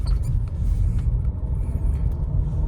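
A Škoda car's engine revs with a low, steady rumble that holds fairly even across the moment, with no talking over it.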